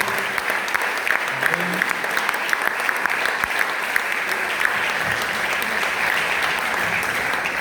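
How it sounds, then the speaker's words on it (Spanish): A church congregation applauds at a Sunday service in a steady, dense wash of clapping from many hands that carries on evenly throughout, with murmurs from the crowd beneath it. "Un aplauso al Señor por ello."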